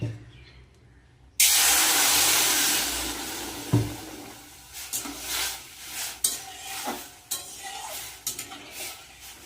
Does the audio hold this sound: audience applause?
no